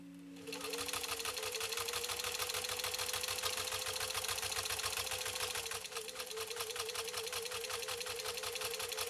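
Centennial Singer 15-91 sewing machine stitching through elk hide, a loud close rapid mechanical chatter with a steady motor hum, starting after a brief pause and running continuously with a slight dip midway.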